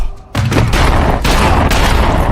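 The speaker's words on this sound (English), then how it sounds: "Taylor manages to shoot one of them dead" Loud gunfire in a movie parking lot shootout: a sharp blast breaks in after a brief quiet, then a dense burst of repeated shots and booming impacts runs to the end.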